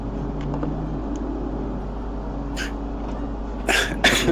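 A few sharp coughs, two short bursts near the end, over a low steady room hum with no talk.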